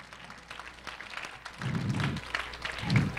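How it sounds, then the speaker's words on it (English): A church congregation claps in praise, soft and somewhat distant, with a few louder low thumps and murmuring voices underneath. "can we just give him a hand clap of praise."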